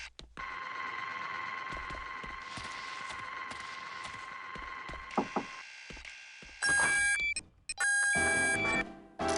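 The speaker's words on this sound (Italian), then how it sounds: "mi scoccia tenere quel maledetto allarme nell'orecchio ogni volta" A persistent electronic alarm drones in the video game No One Lives Forever, a steady high tone running for seconds, then broken into sharper repeated beeps and louder pulsing blasts toward the end.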